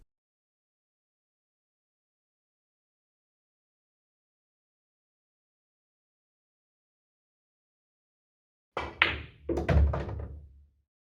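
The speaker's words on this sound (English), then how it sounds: "So we're just playing a stop shot here" A pool cue strikes the cue ball for a stop shot, a sharp close knock followed almost at once by a second duller thud after a long stretch of silence.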